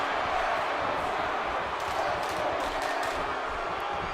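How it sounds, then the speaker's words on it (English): A wrestling crowd in an indoor arena trades dueling chants between two competitors, a steady rhythmic roar of many voices filling the space throughout. "Dueling chants between the two competitors."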